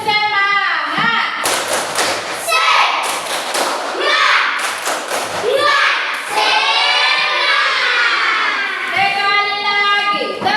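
A classroom group performs the rhythmic 'tepuk semangat' clap, bursts of loud patterned claps and thumps alternating with children's chanting voices, repeated in several rounds up close.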